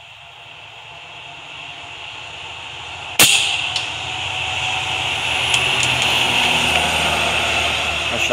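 A single sharp crack from a .25 Air Venturi Avenger air rifle firing an FX 34 grain pellet at an 85-yard target outdoors. It is followed by a faint second tick, over a steady hiss of background noise.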